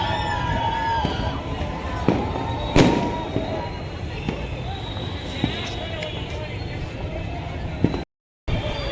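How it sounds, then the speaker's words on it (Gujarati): Firecrackers and fireworks bursting on a night during the Surat kite festival, with repeated sharp cracks and a few louder bangs over a steady crowded background hum. "તો તમે જોવો ચારે બાજુ ફટાકડા ફૂટ્યા છે"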